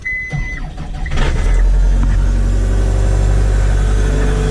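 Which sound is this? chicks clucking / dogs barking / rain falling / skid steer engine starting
skid steer engine starting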